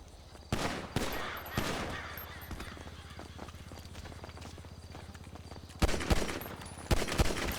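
Gunfire in the FiveM role-play game, a few sharp broadband shots: one near 0.5 s, another near 1 s, and a cluster of three or four near the end, over a steady low game hum with faint background activity.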